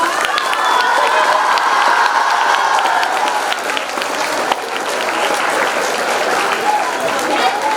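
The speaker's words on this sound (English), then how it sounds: "give a huge round of applause." A school audience at a swearing-in ceremony breaks into loud, continuous applause mixed with children's cheering and shouting. The dense crowd sound stays close and even throughout.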